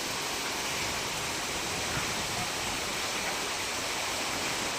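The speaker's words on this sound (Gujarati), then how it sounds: "ધોધમાર વરસાદ વરસ્યો અને ધોધમાર વરસાદની સાથે પવનની ગતિ પણ તેજ થયેલી જોવા મળી" Constant, dense hiss of heavy rain with wind, an unbroken wash of noise with no voices.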